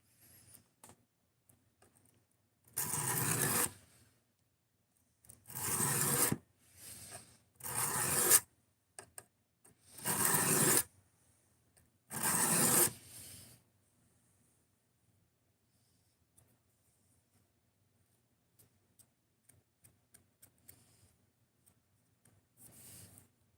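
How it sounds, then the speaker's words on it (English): A knife being sharpened on a stone gives five loud rasping strokes in quick succession, each a second or so long, with quiet gaps between them and faint scattered clicks afterward. "the sharpening sounds terrible?"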